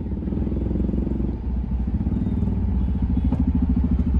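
A motorcycle fitted with an aftermarket exhaust runs close by, its engine throbbing steadily and loudly throughout with a rapid, even pulse.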